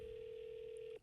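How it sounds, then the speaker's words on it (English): A telephone ring tone on an outgoing call drones as one steady, continuous tone for about a second before cutting off, heard through the line at low volume. "One more ring. I'm giving it one more ring."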